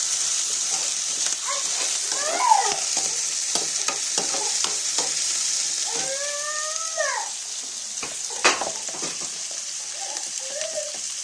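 Onions, green chillies and curry leaves sizzle steadily in a pan while a utensil scrapes and stirs in short bursts, with faint squeaky clinks over the frying.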